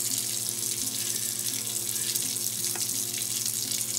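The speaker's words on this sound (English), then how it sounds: "So now we need to take hot water and put it in the pans so it's 1/2 the size of the ramekin." Hot water pours steadily into baking pans around ramekins, a continuous hiss and splash of running water with no breaks, close and moderately loud, with no voices.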